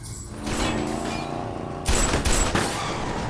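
Heavy gunfire from a TV action drama as shots rake the back of a vehicle, a dense burst of shots with stronger impacts near the end over a background score.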